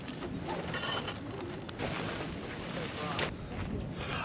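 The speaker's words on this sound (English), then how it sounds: "And it's windy, and the tents are flipping." Wind gusts across a beach campsite at Jalama Beach, rumbling steadily into the microphone with louder surges and rustling, flapping bursts from tents being pitched.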